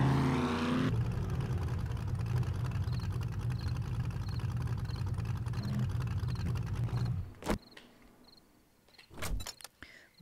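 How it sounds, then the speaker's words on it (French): A motorcycle engine in the 7 Days to Die video game runs at a steady drone for several seconds, then cuts off abruptly, followed by a few sharp clicks and thuds. "Bon, la moto, on va la prendre."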